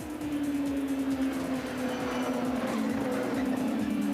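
Honda NSX Super GT race cars run along the home straight, their engines a steady, loud, continuous drone with a sustained tone that holds throughout, with no talk over it.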